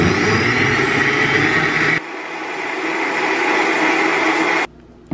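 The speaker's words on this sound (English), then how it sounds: "then you just put it on your blender" A countertop blender whirs steadily as it froths a matcha drink, loud and close. The motor pitch drops partway through, then it runs on before cutting off abruptly near the end.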